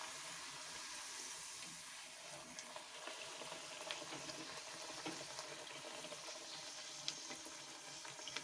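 Bhatura dough frying in hot oil, a steady close sizzle and crackle with no voice over it.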